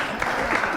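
Brief burst of audience applause for a band at a live show, steady dense clapping with a voice faintly underneath.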